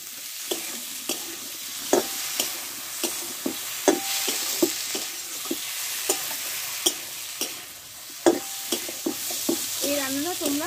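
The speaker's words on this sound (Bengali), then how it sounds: "এবার কষে রাখা আলু আর বরবটিগুলোতে দিয়ে দেবো। মশলার সঙ্গে একসঙ্গে ভালোভাবে কষে নেব।" Potatoes and yardlong beans stir-fried with spice paste in a pan, a steady sizzle broken by repeated sharp spatula scrapes and taps about every second, close and fairly loud, with no speech.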